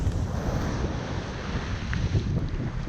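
Heavy rain and gusting wind on Condado Beach in Puerto Rico: steady loud broadband hiss and rumble from rain, surf and wind buffeting the microphone, with no voices.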